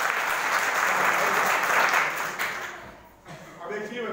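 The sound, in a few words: audience applause at school event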